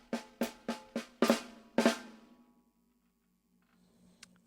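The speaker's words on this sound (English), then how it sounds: "So if I do it without the doubles and I do it slowly, it sounds like this." Drum fill played slowly without doubles, left-hand lead with a flam: six sharp, close strikes in an uneven rhythm, the later hits flammed, ringing out into a quiet tail with one faint tap near the end.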